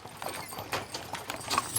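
Horses pulling wagons on a 100-mile Old West wagon train trek across the Mojave Desert to Death Valley, their hooves clip-clopping in a steady uneven patter with light jingling, close and alone.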